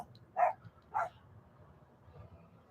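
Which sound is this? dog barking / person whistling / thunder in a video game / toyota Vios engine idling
dog barking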